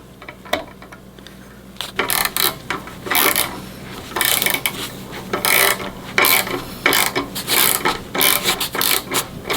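Screws being turned on a windscreen mount for a Kawasaki Vulcan S give loud, close bursts of rasping, ratcheting clicks, repeated in short runs with brief pauses between.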